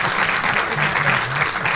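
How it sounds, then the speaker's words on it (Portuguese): An audience applauds at a televised Women's Day special, with brief dense clapping that is loud and close and fills the whole moment. "Fortíssimo aplauso, por favor."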